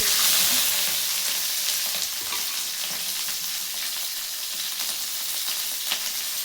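Green chillies fry in hot oil with cardamom and cinnamon sticks for jeera rice, giving a loud, dense sizzle that is strongest at first and then settles into a steady crackling hiss.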